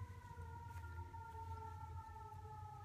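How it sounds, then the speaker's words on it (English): Fire engine sirens sound steadily outside a house, a sustained wailing tone held over low rumble, moderately faint and continuous with no talk. "Sorry for the fire engines going by."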